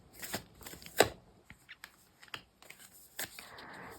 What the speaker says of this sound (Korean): 상대방에 대한 좀 힌트 카드 좀 더 뽑아볼게요